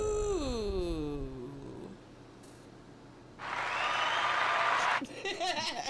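Applause sound effect played on a radio show, a broadband burst of clapping and crowd noise lasting about a second and a half, loud and close, following a stretch of falling tonal sound and quieter background.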